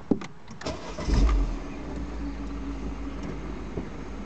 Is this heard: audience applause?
no